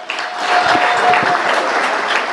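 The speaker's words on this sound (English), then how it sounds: "Round of applause for Jason Draizin." Audience applause for Jason Draizin of Marijuana Doctors at a CannaGather event, a dense, steady round of clapping at close range that keeps going throughout.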